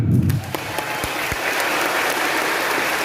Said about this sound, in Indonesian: Kemudian silahkan tepuk tangan